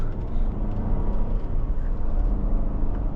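A 2025 GMC Yukon XL AT4 Ultimate with the GM 6.2 V8 cruising on the road, a steady low engine rumble mixed with road noise heard from inside the cabin, fairly loud and continuous.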